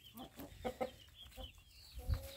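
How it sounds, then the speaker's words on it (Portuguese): A big, long-bodied black hen clucks in short, uneven bursts close by, with a few soft thumps and farmyard noise around her. "Essa golista preta aqui, ó. Galinha galinhona boa, comprida."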